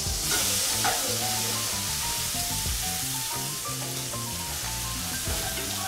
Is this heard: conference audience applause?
no